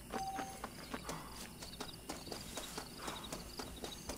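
Rhythmic clip-clop of horse hooves trotting on a hard surface in the video game Red Dead Redemption, steady and fairly close, with a faint background hum.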